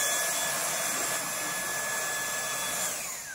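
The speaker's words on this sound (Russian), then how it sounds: "Новый фен Дайсон." A Dyson hair dryer runs steadily with a bright, airy whoosh and a faint high whine, loud and unbroken from start to finish with no talking.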